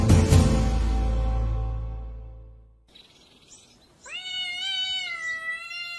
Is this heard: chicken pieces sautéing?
no